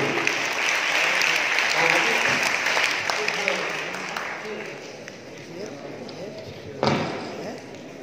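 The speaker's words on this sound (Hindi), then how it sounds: "जोरदार तालियां।" Audience applause at a Naat recitation competition prize-giving in a Bulandshahr hotel hall, a steady crowd clapping that fades slightly, then a brief louder burst near the end.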